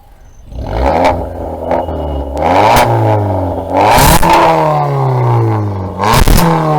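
A modified Maruti Swift on a Stage 1 plus performance tune revs hard several times in a row, each sharp rise in pitch ending in a crackle, loud and close with no voices.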